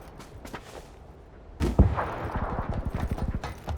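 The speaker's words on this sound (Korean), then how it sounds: "여기 총소리 소음기." Suppressed gunfire rings out in a shooter video game, a sharp opening shot followed by a quick run of muffled, rapid pops after a quiet stretch with faint distant thuds.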